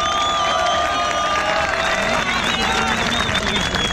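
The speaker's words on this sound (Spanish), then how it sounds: "Y también un aplauso para Meta" A crowd at a Spanish-language freestyle rap battle in Concepción applauds and cheers a rapper. The clapping and shouting are loud and sustained, with whistles rising above the dense, continuous roar.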